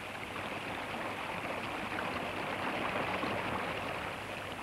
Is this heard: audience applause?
no